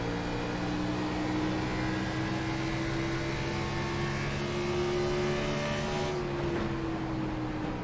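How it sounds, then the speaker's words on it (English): Steady engine drone with a long, sustained tire squeal sliding underneath in a sim racing game at ISM Raceway, continuous and fairly loud, easing slightly near the end. "Oh, Chuck, you can hear the tires sliding coming around."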